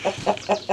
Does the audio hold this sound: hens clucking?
yes